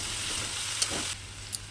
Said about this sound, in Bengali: কেটে রাখা আলুগুলো দিয়ে ভালো করে বেশ কিছুক্ষণ ঢাকা দিয়ে দিয়ে ভাজতে থাকবো